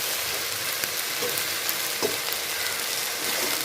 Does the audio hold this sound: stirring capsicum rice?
yes